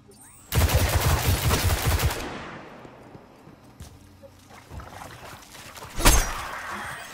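Gunfire from Destiny 2 plays as a sharp burst of rapid shots lasting about a second and a half, then fades into quieter ambience before one more loud blast near the end.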